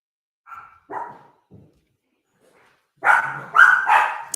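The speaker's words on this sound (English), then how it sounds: "My dogs are barking." Dogs barking at a home in Pennsylvania: a few short barks early on, a pause, then a louder, denser burst of overlapping barks near the end.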